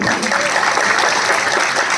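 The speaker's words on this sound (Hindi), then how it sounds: "आपकी तालियों की गड़गड़ाहट पूरे जम्मू को सुनाई देनी चाहिए" A large crowd at a patriotic public speech event in Jammu breaks into loud, sustained applause, a thick continuous roar of clapping that stays strong and even throughout.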